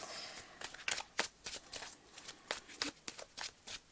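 Tarot cards are shuffled by hand in a quiet room, a rapid irregular run of crisp riffling flicks and soft slaps, close and fairly faint, with no talking.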